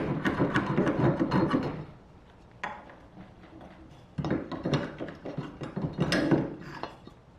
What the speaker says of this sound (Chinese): 这个钉子固定的木头很容易就被撬出来了